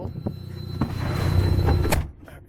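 A car door on a 1984 Mazda RX-7 is worked as the driver climbs in, with a few knocks and a rising rumble of movement, then a firm closing thud, close by.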